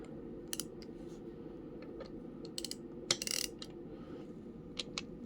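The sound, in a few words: loosening a fastener on BMW S1000RR K67 engine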